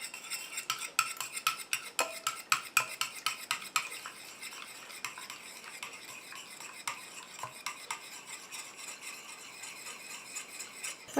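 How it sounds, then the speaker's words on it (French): Repeated clinking and scraping of a utensil stirring the oily and watery phases of a homemade bamboo and lotus day cream together in a small container, steady close-up rhythm with no talk. "Je prends ma phase huileuse que je verse dans mon petit récipient et j'incorpore ma phase aqueuse tout en mélangeant."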